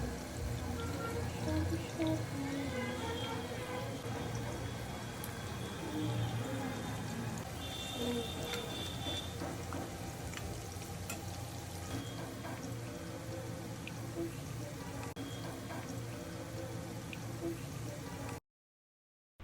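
Chicken pakora sizzles in hot oil over medium heat, a continuous soft crackle and bubbling with faint drips, steady and close throughout.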